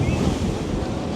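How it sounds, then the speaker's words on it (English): A choppy sea slaps and surges around a packed passenger boat in Central American waters, wind gusting across the microphone in a loud, continuous wash of surf. "The sea is super choppy."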